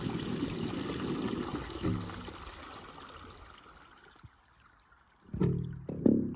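Dirty water from the bottom of a tank gushes and pours steadily, tapering off to a trickle, then splashes back in a few bursts near the end.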